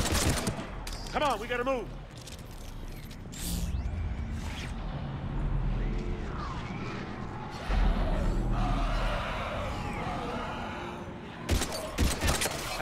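Gunfire in the video game Mass Effect 3 demo, bursts of automatic shots and impacts over a droning game soundtrack, with a voice speaking briefly.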